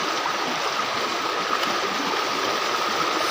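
Village stream in the Konkan countryside, where bullocks are washed, flowing with a steady, broad rushing wash, close and fairly loud, unbroken for a few seconds with no voices.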